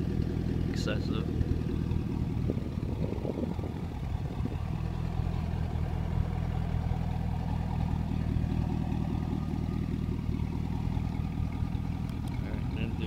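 A deep, steady engine rumble from a Corsa performance car exhaust with cutouts closed, idling nearby, low and even throughout, with a brief clatter early on.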